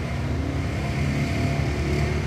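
A RUSI KR mini Max 110 motorcycle engine idles through its quiet stock muffler, a steady, low, even hum heard close by without rises in pitch.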